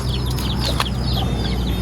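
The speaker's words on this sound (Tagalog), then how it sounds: "Marami pong manok si mama dito mga kababayan." Chickens kept on a rural Philippine property near a road cluck and chirp in a busy, continuous chatter over a low steady hum, with one brief sharp call in the middle.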